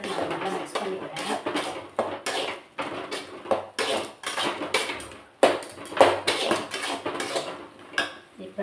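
Spices with garam masala, chilli powder, Kashmiri chilli powder and pepper being stirred in a home kitchen pan, a steady run of close metallic scraping and clinking from a utensil against the pan, with faint speech in the background.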